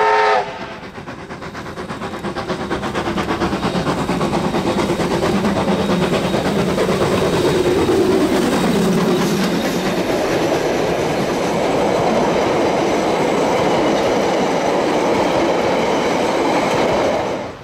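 A steam train pulling out of Kaikoura station in New Zealand, a loud steady rumble of wheels and chugging exhaust with clattering cars, building and holding close throughout.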